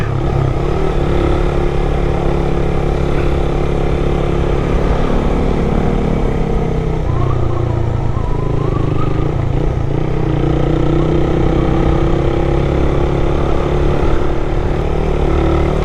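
A small Suzuki Raider motorcycle engine hums loud and steady throughout a solo ride in Malico, Pangasinan, with constant wind rush and slight pitch shifts as the bike holds speed; no talk.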